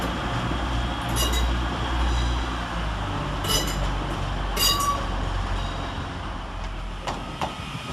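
A Class 185 TransPennine Express unit departs Manchester Piccadilly for Scarborough with a steady low rumble. Sharp metallic clinks and squeals break in a few times, with no voices.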